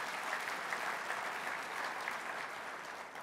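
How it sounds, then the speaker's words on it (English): Dense, steady applause from an audience at a city's State of the City address, many hands clapping at a constant level throughout with no talk over it. "go ahead and applaud"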